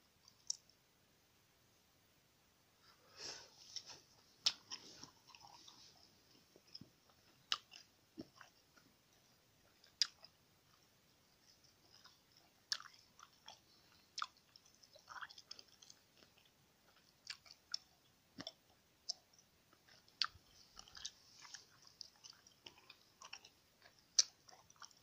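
Close-up wet chewing of blue gum, soft irregular clicks and smacks spread through the quiet, starting after a few silent seconds, no talking.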